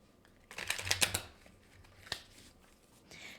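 Tarot cards are shuffled up close in a quick flurry of riffling snaps, followed by a single flick and a soft rustle.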